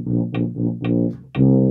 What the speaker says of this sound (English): make a really simple line of you going up a scale and down a scale doing 16th notes